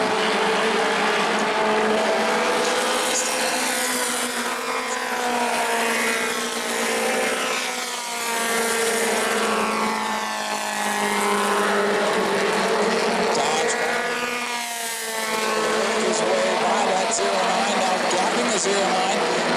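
Modified race cars roaring around the oval at New Smyrna in a Mod Mini 50 race, engine whine rising and falling as cars pass in waves, with a commentator talking over the noise.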